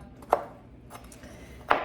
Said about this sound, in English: I'm almost done chopping these up